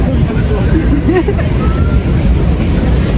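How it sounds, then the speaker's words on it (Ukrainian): A tour boat at Niagara Falls rumbles with a steady loud roar of engine and rushing water, while a crowd of people chatters nearby throughout. "ми заходимо на човен. І будемо рухатись туди."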